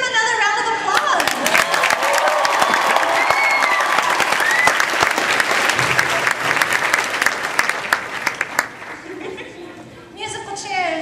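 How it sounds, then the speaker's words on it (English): Sustained audience applause at a Sailor Moon anime convention panel, dense clapping and crowd noise filling the room for about ten seconds before tapering off, with some cheering mixed in. "let's give them another round of applause"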